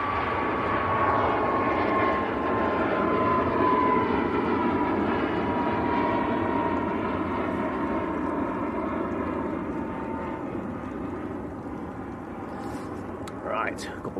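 A heavy jet airliner at Manchester Airport, a steady engine roar with a falling whine, moderately loud and continuous, with a brief sharp clatter near the end.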